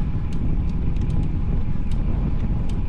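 Strong, steady wind buffets the microphone during a long bike ride on a stormy day, a constant low roar with occasional faint clicks and no voice on top.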